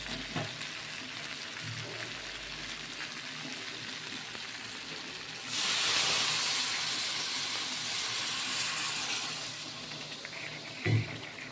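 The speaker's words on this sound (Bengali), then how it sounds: "এবার আমি গরম জল দিয়ে দেবো।" Hot water poured into a hot frying pan of fish curry base with cauliflower and potato erupts into a loud, broad hiss of steam midway, rising over a steady background sizzle and then settling back down.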